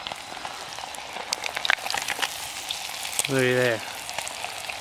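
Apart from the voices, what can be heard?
bluegill frying in a pan on a Solo Stove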